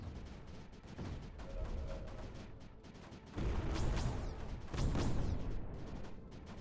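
Cannons fire in the Creeper World 4 strategy game, a run of booming artillery-like blasts that swell twice into louder bursts, close and dense.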